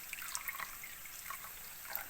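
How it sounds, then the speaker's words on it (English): Water poured into a pot of cooking dal gives a soft, faint trickle and splashing for about two seconds, with small irregular drips and no voices. "and then add water."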